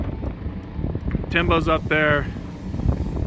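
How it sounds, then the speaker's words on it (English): Wind rumbles and buffets the microphone throughout while someone briefly speaks in the middle. "Windy."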